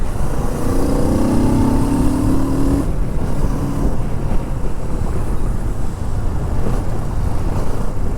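A 2022 Kawasaki Z650 RS retro 650cc motorcycle engine runs loudly and steadily close by, with a rising rev in the first few seconds, then a constant drone with wind rumble.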